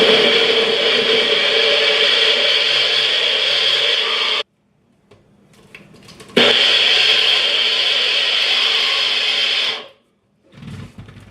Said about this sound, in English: Okay, so I just took it off the blender.